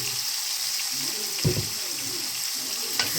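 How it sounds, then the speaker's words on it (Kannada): Nungel fish frying lightly in a pan with salt and turmeric, a steady soft sizzle and hiss running throughout, with a couple of brief louder clatters of stirring. "ಲೈಟ್ ಫ್ರೈ ಆಡು"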